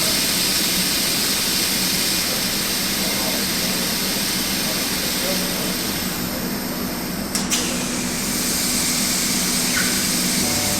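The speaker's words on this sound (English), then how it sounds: "So we are going to pop it into the mixer." A loud, steady roaring whoosh from a mixer machine rinsing a hydro-dipped part, continuous and close throughout with a brief clank partway, as a person talks underneath.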